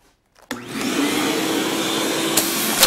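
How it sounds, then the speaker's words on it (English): After a moment of near silence, a vacuum cleaner switches on abruptly and pulls air out of a space saver bag, holding a steady, loud whirring roar with a brief change in tone near the end. "We're gonna turn on the vacuum, suck out the air."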